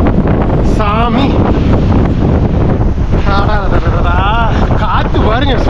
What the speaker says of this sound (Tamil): காற்று பாருங்க, சும்மா விசு விசு விசு விசு விசு விசு விசு அடிக்குது.